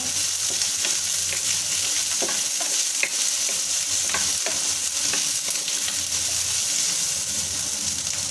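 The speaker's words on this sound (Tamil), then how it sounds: "இப்போ வெங்காயம் வதங்கிடுச்சு" Onions sautéing in a pan for cauliflower gravy give a steady, close, dense sizzle with faint stirring scrapes throughout, and no voices.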